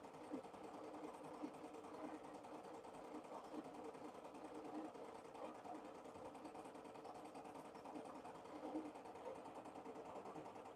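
An embroidery machine stitches an anime design with a steady, fast, continuous mechanical whirr and rattle at low volume, running unbroken throughout.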